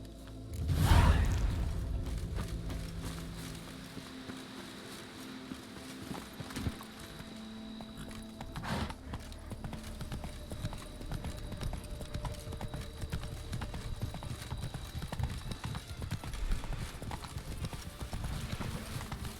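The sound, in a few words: horse Roach hooves galloping, from video game Witcher 3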